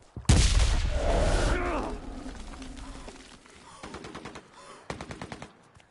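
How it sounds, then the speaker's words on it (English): Loud burst of automatic gunfire in the online shooter game CRSED, a dense rattle for about a second and a half, then a fading tail and a few scattered shots later, with some talk mixed in. "Bad shooting, Tex"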